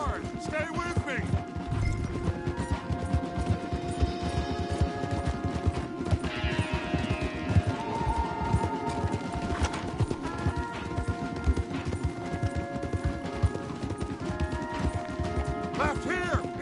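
Horses gallop hard in the Red Dead Redemption 2 video game, with fast, dense hoofbeats drumming steadily throughout, loud and close, while occasional metallic clatter and other game sounds sit over the riding.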